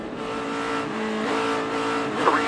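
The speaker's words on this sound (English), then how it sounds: "I want you to ride on board, and I want you to listen to the engine sound." Onboard a NASCAR Cup Series race car during a 2015 race, the engine drones loud and steady at high revs with a slight pitch swell, close to the microphone.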